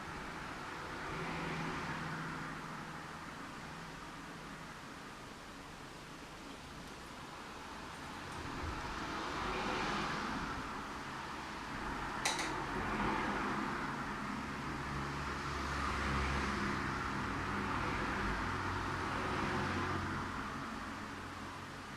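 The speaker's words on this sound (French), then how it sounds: "il y aura toujours des petits bruits de voiture" Faint, steady road traffic hum from outside, with passing cars swelling and fading in soft waves; a brief click partway through.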